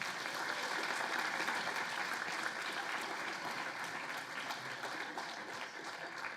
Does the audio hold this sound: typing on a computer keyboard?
no